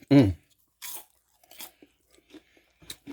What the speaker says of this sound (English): You can hear it crunch.